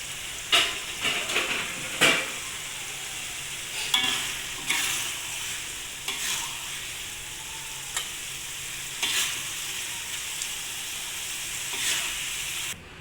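Sambal chili paste sizzles steadily in a pan on the stove while a spoon stirs it in repeated scraping strokes, close and fairly quiet.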